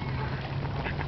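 Ducks or geese close by, hissing and quacking in a steady, fairly loud burst, with a low honking tone running through it.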